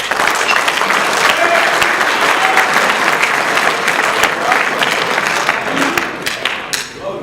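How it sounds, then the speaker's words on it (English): A gym crowd gives a sustained round of applause for a girls basketball team heading to state, with dense, loud clapping throughout that thins slightly in the last second. "So give yourself a round of applause."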